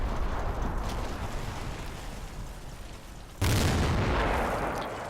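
In the Combat Mission video game, distant rumbling battle noise gives way to a single loud, sudden Sherman tank gun blast. Its heavy boom rolls off over the last seconds.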